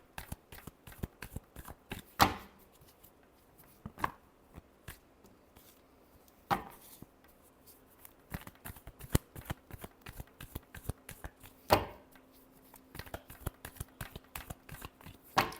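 Tarot cards are shuffled by hand in crisp riffles and slaps, spaced irregularly with a few louder bursts, close up, with no talk.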